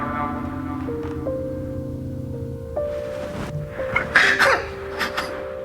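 A few short, harsh cough bursts break out partway through, near and fairly loud, after sustained musical tones that carry on beneath them.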